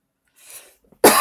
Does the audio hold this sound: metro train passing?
no